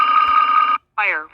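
Cockpit left engine fire alarm on a Boeing 717 airliner: a loud, steady electronic bell-like tone that rings for most of a second, breaks off briefly, then comes back with a wavering, falling chime.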